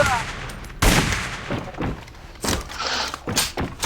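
Gunfire in the online shooter game AVA, with sharp shots and short bursts from pistols and rifles over a few seconds, together with excited talk and shouting from players.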